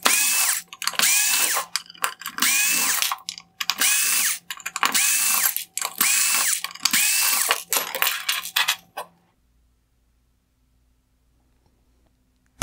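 Rapid ratcheting clicks from a screwdriver backing out T10 Torx screws from the LED diffusers of a 2016-2019 GMC Sierra full LED headlight, close and loud in several separate bursts, then silence.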